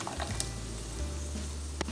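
Sautéed vegetables sizzle steadily in a hot pan as sauce is poured in, a close, continuous hiss with a couple of faint clicks and no voices.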